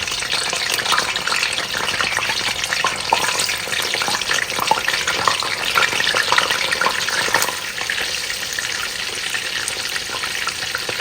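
Soaked koobi, salted fish, frying in hot oil, giving a steady, dense sizzle and crackle that holds even and close throughout with no talking.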